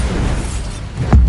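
Bombarda blast spell in the Hogwarts Legacy game: a sudden close, heavy boom hits near the end, rising out of a steady low rumble of in-game ambience.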